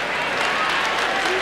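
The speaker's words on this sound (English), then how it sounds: "Let's give him a hand." Arena audience at a K-1 kickboxing tournament applauds in a dense, steady wash of clapping, loud and continuous for a brief moment.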